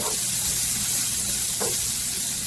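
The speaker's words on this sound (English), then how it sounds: "render the onions in that chicken fat that we rendered off" Onions sizzling in rendered chicken fat inside one pot for chicken and rice, a steady close broadband frying hiss with a brief stir or shift of the pan partway through, no voices.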